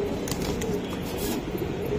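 Pigeon cooing at a fancy pigeon seller's loft in Lalbagh, Old Dhaka, with soft low coos over a steady hum of background noise and a few faint chirps.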